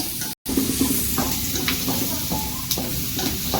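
A cook stirs a frying onion mixture in a hot pan, with a steady sizzle under repeated scraping strokes of the spoon and a brief cut near the start; no one speaks.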